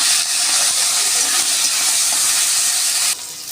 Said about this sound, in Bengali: চিংড়ি মাছটা লাল লাল করে ভেজে নেব বন্ধুরা